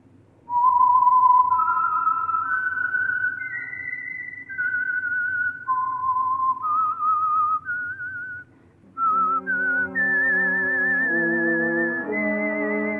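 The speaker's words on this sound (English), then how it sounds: "the signal to listen for is this whistle that identifies the Signal Oil program" Someone whistles a slow, clear melody note by note, the theme of the old-time radio show The Whistler, joined near the end by soft sustained chords as the tune brightens.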